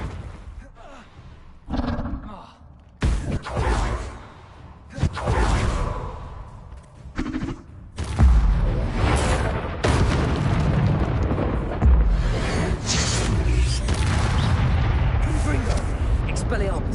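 Fiery Confringo spell blasts from Hogwarts Legacy hit again and again with whooshing bursts and deep booming roars, mixed with other combat effects while people talk over the action.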